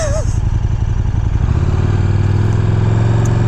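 A 2015 KTM 1290 Super Duke R, rated at 177 horsepower, idles and revs with a loud, close, throbbing engine note that shifts pitch partway through, running continuously with a voice briefly heard under it.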